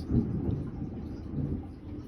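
Low, rumbling thunder from a lightning storm outside rolls continuously, distant and fairly quiet, with no speech over it.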